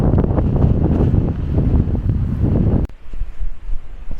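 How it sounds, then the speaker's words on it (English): Strong, gusty wind buffets the microphone at a hilltop viewpoint on the old military road to Ratagan above Loch Duich in Scotland, a loud steady roar for about three seconds before dropping to lighter, uneven gusts. "It's getting rather blustery up here"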